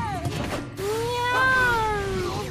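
A voice imitates a cat's drawn-out meow during play of the video game Sengoku Basara 3, one long rising-and-falling mew heard up close.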